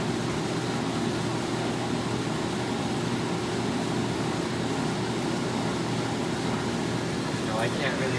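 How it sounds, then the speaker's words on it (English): A motor-driven pump on a power unit runs during spring de-winterizing, giving a steady, unbroken mechanical hum at an even level for the whole stretch, close by and fairly loud. "Pump's running."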